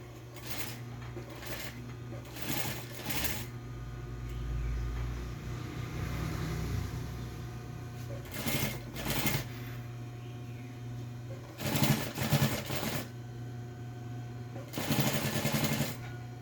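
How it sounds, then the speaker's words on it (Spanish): A sewing machine runs an extra seam on a fabric pencil case, with short bursts of stitching separated by pauses over a low steady hum, close by in a quiet workshop. "Yo a esta le voy a dar una costura adicional para que el pespunte quede doble."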